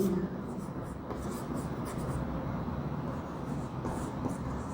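Pen or chalk writing notes during a tenth-grade physics lesson on eye defects, steady scratching strokes under a teacher's spoken explanation in Hindi.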